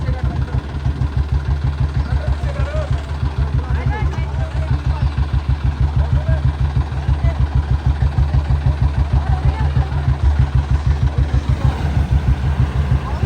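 A tractor engine runs steadily in a rain-soaked Punjab village while villagers push and strain to help it, its loud, regular low chugging pulsing throughout with voices talking over it.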